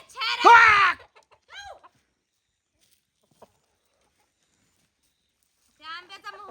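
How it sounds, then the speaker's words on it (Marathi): Chicken clucking in a yard where the hen has made its home and dusts itself in the soil, heard as a loud burst of squawking clucks, then a short cluck and a few softer calls after a pause. "अशा कोंबड्याने घर केलंय बघा इथं उकडून उकडून माती घेते अंगावर."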